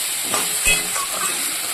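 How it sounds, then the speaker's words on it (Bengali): Potatoes and vegetable stems sautéing in a pan with turmeric, salt and chilli paste give a brief, soft, steady hiss with a faint scrape or two, close by. "আমি আলু আর ডাটাটাকে ভালো করে কষিয়ে দিচ্ছি"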